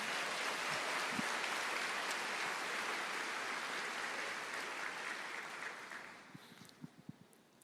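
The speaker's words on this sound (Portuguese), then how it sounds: "Eu quero ver as palmas nisso aqui também." Church congregation applauding in a large hall, a dense, sustained wash of many hands clapping that thins out into scattered claps near the end.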